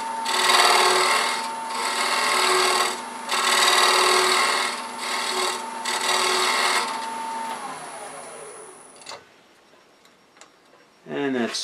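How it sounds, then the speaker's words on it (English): A scraper works against wood spinning on a lathe, giving a steady rasping tick in rhythmic surges. The whine then winds down as the lathe slows to a stop, and a few small knocks follow. "I'm using a scraper. You hear it go tick, tick, tick."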